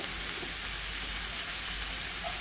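Amaranth greens sizzling in a hot pan for a Marathi-style vegetable dish, a steady, moderately loud crackling hiss running evenly throughout with no voices.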